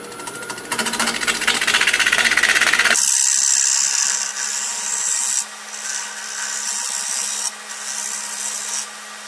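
Wood lathe spinning a white oak bowl while a tool scrapes and squares its bottom, a loud harsh rubbing cut at first, then a steady whirring hum with intermittent tool contact; no talk.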